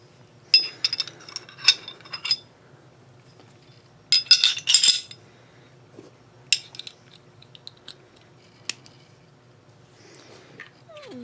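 Metal parts of a Smith & Wesson Shield striker-fired pistol clink and click as the barrel and recoil spring go back in, with sharp clusters of clatter and several isolated snaps separated by quiet gaps, close by.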